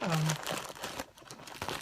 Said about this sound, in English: what you hear rustling is a Ziploc bag